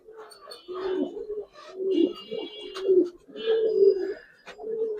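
Giribaz pigeons coo in a low, rolling series of throaty calls, with a few brief higher chirps mixed in, close and fairly loud.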